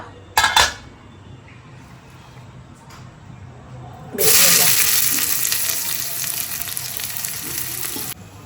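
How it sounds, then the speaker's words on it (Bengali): Onions hit a hot pan and burst into a loud, bright sizzle that holds steady for several seconds, preceded by a couple of sharp utensil clanks and a quieter stretch; faint background speech is present. "পেঁয়াজটা ফ্রাই করে নিলাম"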